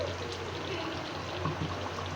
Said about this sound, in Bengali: এই পর্যায়ে একটু টমেটো কেচাপ দিয়ে দিলাম